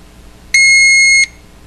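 A Protex fingerprint safe lets out a single loud, steady electronic beep lasting under a second to confirm a finger enrollment, with quiet around it.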